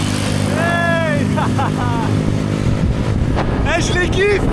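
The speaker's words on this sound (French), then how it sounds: "C'est mes motos." Motorcycles ride through the jungle on Phuket, their engines droning loud and steady with wind rushing past, while voices briefly call out over the noise.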